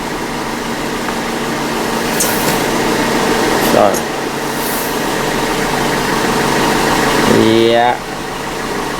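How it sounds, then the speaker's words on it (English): A misfiring Audi Q5 engine idles roughly and shakes, a loud steady drone with uneven pulsing, while someone speaks briefly over it. "I can see the engine shake like crazy."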